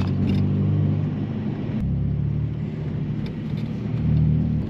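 A 2.8-litre turbo V6 Saab 9-3 rolls slowly over speed bumps, heard from inside as a steady, loud low engine and road rumble with a brief thump partway through.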